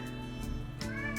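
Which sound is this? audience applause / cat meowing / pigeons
cat meowing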